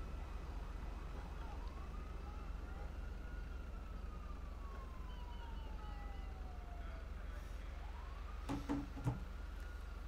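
A police car siren wails in Grand Theft Auto V, slow rising and falling sweeps heard faintly at a distance over a low steady hum, with a few sharp clicks near the end.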